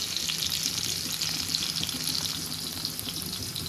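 Garlic frying lightly in a pan while Bengali palak (spinach) is being cooked, a steady close hiss of sizzling oil with faint watery crackle throughout, no voices.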